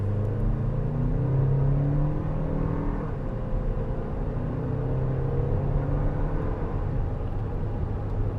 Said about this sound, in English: I'm going to give it about 2/3 throttle.